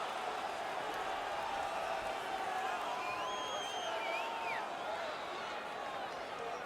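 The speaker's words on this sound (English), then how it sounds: "The crowd is so pumped right now." A hockey arena crowd in the video game NHL 19 roars steadily after a fight, a dense continuous wall of cheering and whooping at moderate distance with faint whistle-like tones rising through it.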